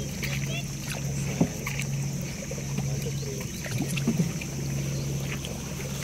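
A small boat moves through the water past mangroves at Santa Cruz Island, Zamboanga, with a faint low engine hum, gentle splashing and wind, while people talk softly on board.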